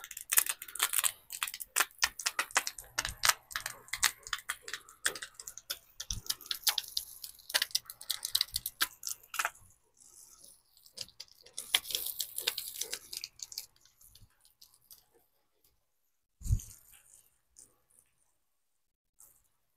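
Water poured onto a potted wild mulberry bonsai during repotting, with dense dripping and splashing for about ten seconds, a shorter burst after a pause, then sparse drips as it drains through the soil.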